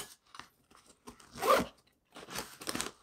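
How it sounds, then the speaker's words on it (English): The zipper on a lunch cooler bag is pulled open in a few quick rasping strokes, close and quiet, with short pauses between the pulls. "Where's the zipper? There's the zipper."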